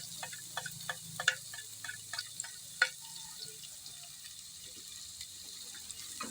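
Garlic browning in a pan, a quiet steady sizzle with scattered small crackles and pops, then onions going in, cooking for a simple fish fillet steak dish at home.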